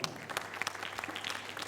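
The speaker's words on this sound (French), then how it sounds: "L'homme qu'on appelle Monsieur Rico Clair, s'il vous plaît, sous vos applaudissements." Audience at a Miss Earth 2019 pageant in Mauritius and Réunion clapping, a brief burst of steady applause from a fairly distant crowd.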